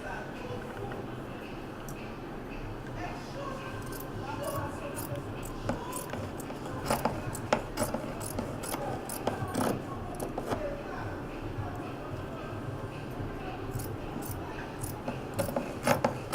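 Scissors cut through a t-shirt to make a bag, giving a steady rasping, rubbing fabric sound with repeated snips that grow busier toward the end, close and fairly quiet.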